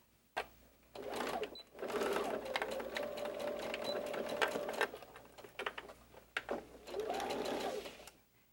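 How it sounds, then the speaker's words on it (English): A sewing machine stitches the seams of a fabric French bulldog softie, running in short bursts and one long steady whirring stretch, close and clear with pauses between runs. "now we're going to sew from one side to the other."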